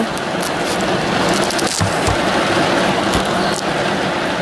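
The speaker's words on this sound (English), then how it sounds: "It is pouring." Heavy rain pours down outside a gym, a loud, dense, continuous hiss of drops striking surfaces, with occasional louder splashes and no voices.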